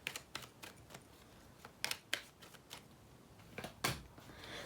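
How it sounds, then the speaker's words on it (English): Oracle cards being shuffled by hand in a quiet room, a series of soft, crisp riffling and tapping bursts at irregular intervals, close and faint, with no talking. "let's shuffle our cards"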